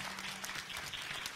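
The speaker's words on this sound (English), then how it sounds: "we want to give them a round of applause" Dense, steady applause from an audience at a meet-the-candidates forum in Georgia, continuous clapping with no gaps for the short stretch.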